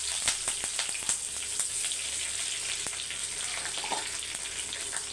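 Curry leaves hit hot oil for a sambar tempering, a steady close sizzle and crackle with scattered sharp pops running throughout, no voices.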